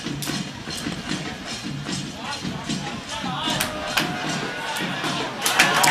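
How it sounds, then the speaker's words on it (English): A crowd at a schoolboy cricket match at Katugastota, with bands playing; rhythmic drumming and cheering voices carry through, lively and moderately loud, with occasional louder bursts. "crowd having a lot of fun here at Karagasuta."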